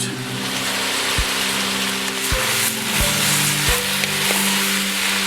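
Potatoes and roughly chopped cabbage hit hot fat in a pot, giving a steady, close sizzle with a few sharp knocks as they land and settle, with no voices.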